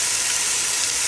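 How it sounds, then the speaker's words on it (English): Onions sizzle and fry steadily in a hot pan, a continuous crackling hiss at even loudness with no talking. "So my onions is fried."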